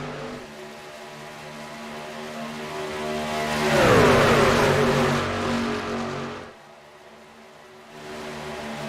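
Racing truck engines roar in a racing video game, a steady multi-engine drone that swells as one truck passes close with a rising then falling pitch, then drops back to a quieter hum.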